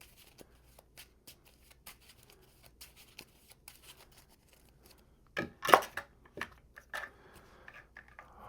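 A deck of Marvel Champions cards is shuffled with soft, scattered papery clicks that build to a burst of riffling near the end, quiet and close with no talking.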